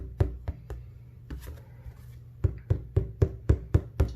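Knuckle taps on a tightly stretched painting canvas being prepped for acrylic pouring, giving hollow drum-like knocks: a few scattered taps, then a steady run of about eight evenly spaced, louder thumps, close up with no talk.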